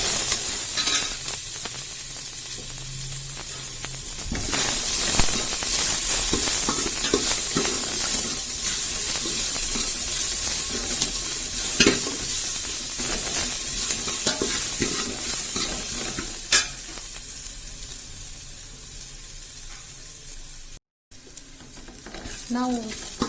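Onions, garlic and green chilies fry in a pan for a radish potato sambar, a steady sizzling hiss running throughout with stirring scrapes and clinks, loud and close, briefly cutting out near the end.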